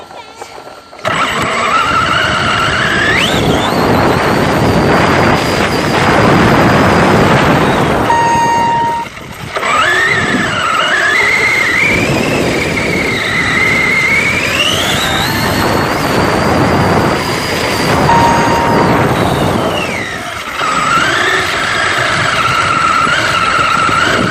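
An FTX Outlaw RC car on a speed run, its motor whining loud and high as it accelerates away and back in repeated rising and falling passes, with wind rush and voices talking over it.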